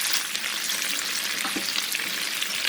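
Chicken cooks in a hot pan with sriracha, giving a steady, close, dense sizzle and crackle of frying fat throughout, with no voices over it.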